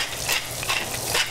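Seasoned with coarse salt and freshly ground pepper, food is tossed in a hot frying pan, giving a steady, close sizzle with light scraping movement throughout.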